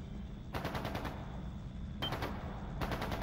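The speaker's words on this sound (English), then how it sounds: "That sounds like... it's gunfire." Bursts of rapid automatic gunfire in a video game crackle in short volleys, three separate strings of shots over a low rumbling background.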